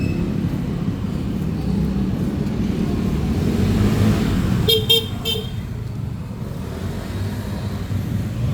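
Busy street traffic with cars rumbling steadily past at close range, a car horn tooting briefly partway through, continuous low road noise throughout.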